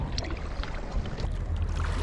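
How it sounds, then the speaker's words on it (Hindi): Kayak paddling on the water of Halong Bay, Vietnam, with steady close splashing and wash from the paddle strokes and a low rumble of wind and water throughout. "राइट वाला चप्पू चलाओ"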